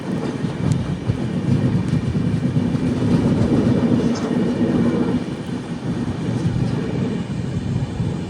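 Mumbai–Thiruvananthapuram express train stopping at Monkey Hill on the Bhor ghat, a steady low rumble of rolling wagons and brakes, sustained and moderately loud, with faint wheel clatter throughout.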